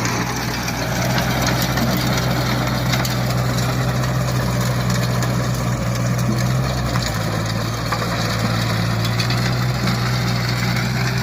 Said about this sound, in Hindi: 26 HP का ट्रैक्टर है और 3 फीट का रोटावेटर है।